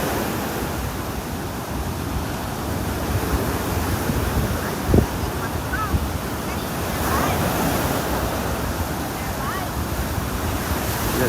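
Ocean surf washes steadily onto a beach in North Naples, Florida, a broad continuous roar with wind buffeting the microphone and one brief thump midway.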